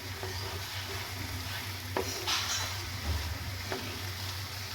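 Semolina upma frying in a pan over a high-to-medium gas flame, stirred steadily: a continuous soft sizzle with a low burner hum beneath and a few scraping stirs cutting through, close and fairly quiet, no talking.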